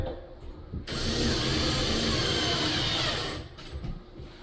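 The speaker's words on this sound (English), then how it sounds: "So when you screw these screws in, you want them sort of just slightly sunk." A screw is driven into plasterboard with timber behind it, a short, loud whirring buzz lasting about two and a half seconds between quieter handling noises.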